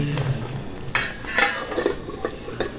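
Chicken that is first boiled in a pot is stirred with metal utensils, giving repeated scraping clinks and soft bubbling, all close and loud.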